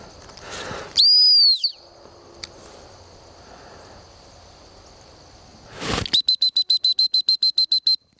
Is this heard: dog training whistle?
yes